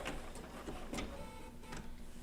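Bernina B790 PRO sewing machine with a 20C open toe foot stitching wool appliqué, a steady close mechanical whir running continuously with faint rhythmic ticking throughout.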